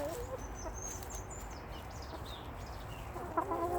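Backyard chickens clucking softly while scratching through compost in a garden bed, several birds nearby under a constant outdoor hiss, with no talking.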